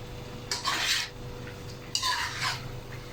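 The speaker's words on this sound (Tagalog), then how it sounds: "Haluin natin konti, haluin." A utensil scraping and clinking in a pan while food seasoned with fish sauce is stirred, two short bursts of metallic scraping over a quiet background hum.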